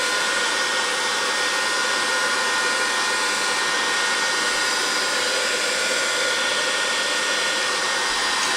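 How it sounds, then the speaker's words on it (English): Steady, loud whoosh of a heat gun blowing hot air while rust-effect paper is worked, running unbroken throughout with no speech. "Use the heat gun again."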